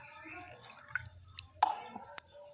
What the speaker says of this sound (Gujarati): હવે અંદર આપણે થોડું પાણી એડ કરી દઈશું।